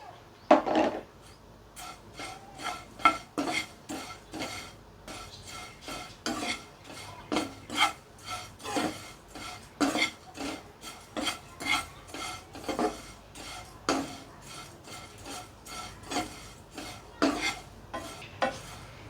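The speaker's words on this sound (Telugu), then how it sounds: "ఇప్పుడు ఎండు కొబ్బరి కూడా వేయించుకుందాం" Dry coconut roasting in a pan with ghee and flattened rice, a spoon scraping and stirring through it in a long run of crisp, irregular strokes, close and fairly quiet, with no talk.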